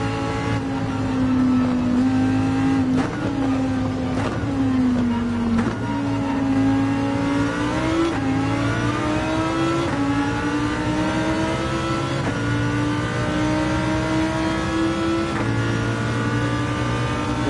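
A Lamborghini race car engine screams on track in a racing video game, rising through the revs and shifting gears repeatedly, loud and close with steady pitch climbs between each upshift.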